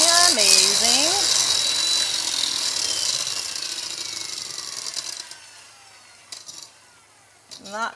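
An electric mixer whips a s'mores truffle mixture toward soft peaks, a loud continuous high whir that fades after a few seconds, followed by a few scraping clatters near the end, with a voice briefly over the start.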